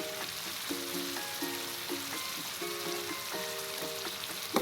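Fish roe being stirred into a masala in a frying pan, giving a steady close sizzle with soft scraping and stirring sounds throughout, no talking.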